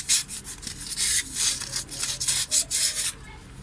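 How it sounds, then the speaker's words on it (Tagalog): Fine 1000-grit sandpaper rubs back and forth over the copper commutator of a car starter armature during cleaning, a close, steady series of soft rasping strokes with a regular rhythm. "Tapos gamit ang grit 1000 na liha."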